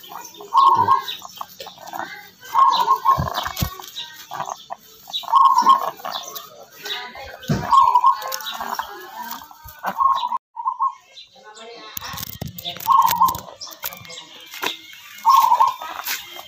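A sick chicken gives off a rhythmic, rattling snore-like wheeze with each breath, repeated evenly about every two to three seconds up close, with faint background noise and clucks.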